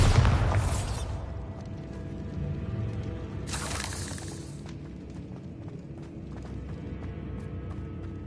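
Two heavy booming blasts from the Bombarda spell in the Hogwarts Legacy video game, the first loud and the second a few seconds later, each fading into a low rumbling background.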